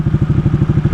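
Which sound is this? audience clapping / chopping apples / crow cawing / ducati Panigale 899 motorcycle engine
ducati Panigale 899 motorcycle engine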